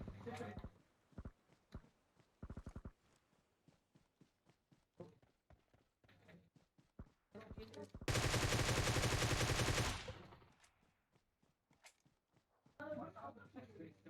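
Bursts of rapid automatic gunfire in the PUBG Mobile battle royale game, a long loud burst in the middle plus shorter volleys and scattered single shots, with players talking and footsteps throughout.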